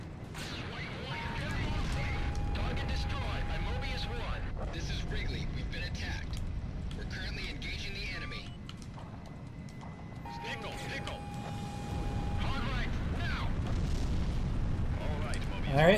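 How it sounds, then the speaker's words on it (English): A bomb dropped from a jet in Ace Combat 4 bursts on ground targets with heavy rumbling booms over constant engine roar, with steady tones beeping in and out and a swell of noise near the end. "You put that where you want the bomb to land and release the bomb, and that's where it hits."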